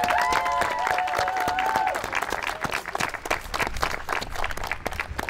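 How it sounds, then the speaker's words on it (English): Audience applause at the Juli Cup 2022 land art award ceremony, dense steady clapping with a few cheers and whistles early on, then thinning slightly into looser, uneven claps. "Big applause."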